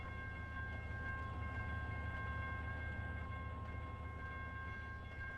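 In Trainz Simulator 3, a Conrail locomotive running light gives off a steady low rumble under constant tonal hums, an even, continuous drone throughout.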